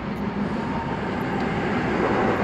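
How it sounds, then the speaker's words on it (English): A train passes close by beside a closed cycle path, a loud, steady broadband rumble with rail roar that holds evenly throughout, with no talk over it. "there's another train coming."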